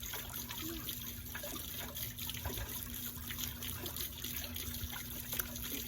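A steady trickle of water poured onto compacted clay soil outdoors, a continuous close splashing and dribbling with a faint hum beneath.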